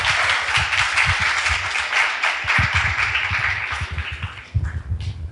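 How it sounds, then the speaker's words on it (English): A crowd applauding steadily, dense clapping from many hands that holds for several seconds, then thins briefly and picks up again near the end. "First, a big round of applause to all the"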